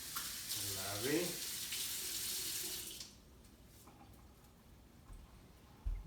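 Tap water runs into a sink for fresh rosemary being rinsed, a steady close splashing for about three seconds before it stops, then quiet kitchen room tone with a couple of small knocks.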